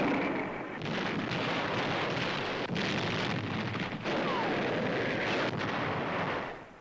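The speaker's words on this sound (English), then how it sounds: "the 5th United States Marine Division fires on Japanese gun emplacements studding the mountain" US Marines of the 5th Division fire on Japanese gun emplacements on Mount Suribachi, Iwo Jima, in a dense, continuous roar of artillery and gunfire with repeated heavy booms under a thick wartime rumble.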